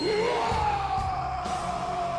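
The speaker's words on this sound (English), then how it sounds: "A yell that will haunt your nightmares" A single long, loud male battle yell from the 1995 Mortal Kombat film, a sustained rising then steady wail with a few thuds of action beneath it.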